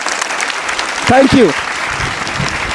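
Clapping at a Shivaji Jayanti quiz event for a girl student, a steady crowd applause throughout, briefly overlapped by a short spoken word from one person near the middle.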